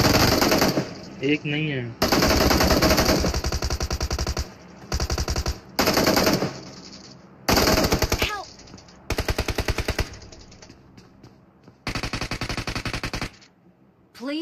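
Bursts of automatic gunfire in BGMI come in repeated loud sprays separated by short gaps, with brief voice chatter between volleys.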